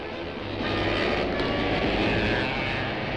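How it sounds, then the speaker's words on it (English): Go-kart engines roar at a World Cup International Kart Championship race at Heysham Head, Morecambe, a loud, dense, droning buzz that swells and stays steady throughout with no talking. "mechanics and drivers put the final burst of go into their karts"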